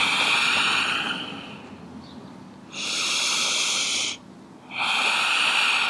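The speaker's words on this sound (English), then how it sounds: "Let's take 3 rounds of Ujjayi and then flow through that on each side." Ujjayi breathing during a yoga class: long, steady ocean-like breaths with a soft hiss, heard in alternating inhale and exhale phases with brief pauses, close and fairly loud, no talking.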